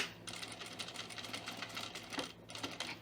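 A sewing machine runs steadily as it back stitches along the hem of a button-up shirt, a dense rapid mechanical chatter close up and continuous, with slight shifts in pace and no voices.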